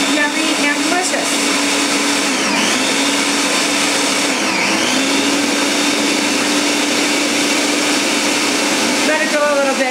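A blender purees celery root with a loud, steady whirring drone close by, its pitch shifting slightly as the mixture smooths out and running throughout.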